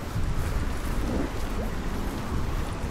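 A stormy downpour in the video game Don't Starve Shipwrecked, steady dense rain hiss with low rumbling thunder and wind underneath, continuous and enveloping with no voices.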